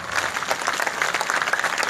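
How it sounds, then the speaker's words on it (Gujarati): Loud, dense applause from a crowd, many hands clapping steadily and continuously throughout. "બે હાથ ઊંચા રાખીને તાળીઓ પાડો"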